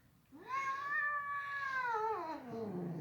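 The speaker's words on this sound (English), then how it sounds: "he growls like he's gonna hurt you" A domestic cat lets out a long, drawn-out yowling caterwaul, rising and then sliding down in pitch, close and fairly loud, with no voices.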